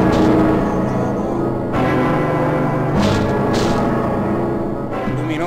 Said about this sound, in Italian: Senti, un lontanissimo suono di campana.